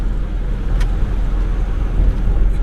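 A Mercedes Actros truck, freshly repaired, drives along a street with a steady low engine rumble and road noise throughout, no voices.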